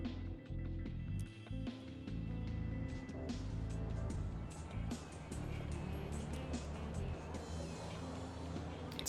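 Car driving in the city-building game Cities: Skylines, a steady layered engine and road rumble with scattered brighter tones and clicks over it, continuous at moderate level.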